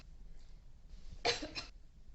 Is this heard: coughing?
yes